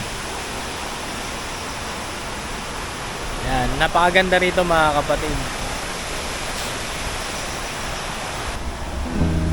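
Constant rushing river water flows throughout, a broad steady wash of noise, while someone speaks briefly over it in the middle.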